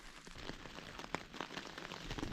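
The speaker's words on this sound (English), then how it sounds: "Now it's a moderate rain, but it was hitting inside on the head side of this shelter" Moderate rain patters on a bivy tent shelter, a soft, quiet spread of scattered drops tapping close by under a steady hiss, with no voices.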